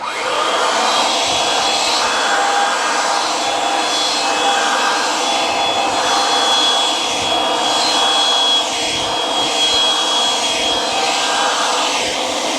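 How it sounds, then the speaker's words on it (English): A Bluerock PTM 300 pipe threading machine spins a pipe while a tubing cutter is fed in to cut it, giving a loud, steady motor whir with a faint rhythmic scraping under it, running alone with no talk. "We're going to grab the feed handle for the tubing cutter and we're going to turn it to the right. That's going to cut the pipe."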